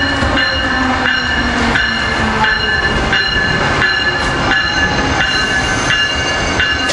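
An ACS-64 electric locomotive, number 617, passing near Paoli, loud and close, with a steady rumbling roar, clattering wheels and high, sustained squealing tones through the whole passage.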